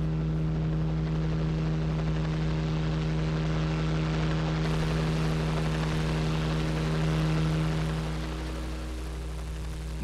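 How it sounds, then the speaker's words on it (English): A helicopter's engine in the video game Corpse Party Blood Drive drones loudly and steadily throughout, a continuous whirring hum that eases slightly near the end. "A helicopter."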